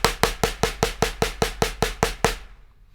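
Eleven loud, evenly spaced single-hand drum strokes hit at a steady quick pulse, each sharp attack ringing briefly, with no voices, ending in a short fading tail.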